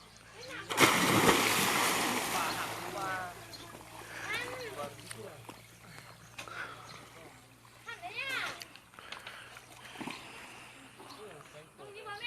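Someone jumping into water in a rural rice-field setting in the evening, giving one loud splash near the start followed by smaller sloshing, with voices talking throughout.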